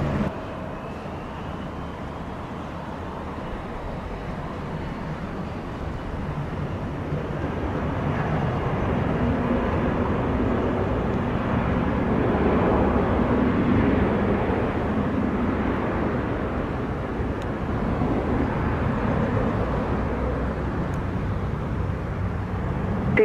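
A JetBlue jet airliner takes off from runway 07 at Montego Bay, Jamaica, heard as a steady broadband engine roar that swells after a few seconds and holds loud and sustained, alone without talk.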